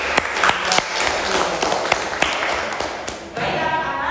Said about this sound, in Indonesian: kita kasih aplaus untuk Regawa dan Dafa